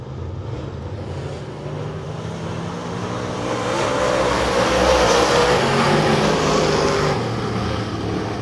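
Dirt track race cars roar around Lake of the Ozarks Speedway in a steady, loud engine drone that swells midway as the pack passes closer, with no talk over it.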